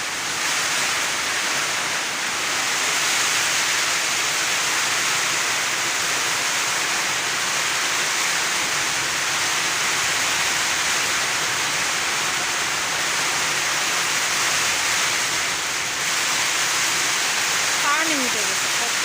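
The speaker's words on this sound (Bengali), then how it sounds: "এটা একদম ঝড়, এত পরিমাণ ঝড়" Heavy rain and strong wind lash a village in a storm, a steady loud roar of downpour and gusts filling the whole stretch without letup.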